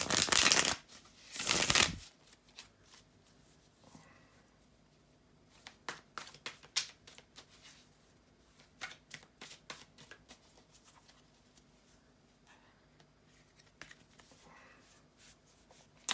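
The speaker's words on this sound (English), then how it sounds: "bear with me a couple of seconds here to shuffle the tarot cards" Tarot cards are riffle-shuffled loudly twice at the start, followed by softer, scattered shuffling and handling sounds close by.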